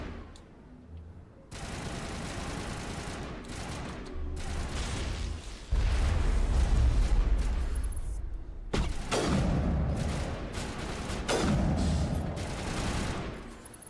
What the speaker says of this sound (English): We got people shooting at us.